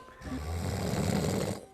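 A person imitates snoring with a single long, rough, rattling breath that lasts over a second, close and loud, with no talking.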